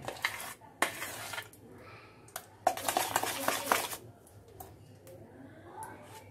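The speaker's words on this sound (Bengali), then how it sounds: "এই ব্যাটারটার মধ্যে নিয়ে নেব, নিয়ে খুব ভালো করে ফেটিয়ে নেব" Malpua batter whisked with a spoonful of hot oil in a small kitchen: bursts of rapid scraping and clattering strokes against a bowl, alternating with quieter pauses, close and fairly loud.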